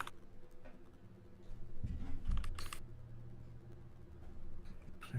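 Fingers type steadily on a computer keyboard, producing a quiet, continuous patter of key clicks with a slightly busier burst partway through, and no voices.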